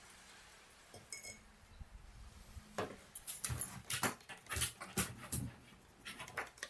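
A long-bodied dog jumps onto its seat indoors: a thump followed by several close clinks, rustles and soft panting, after a quiet stretch of room tone.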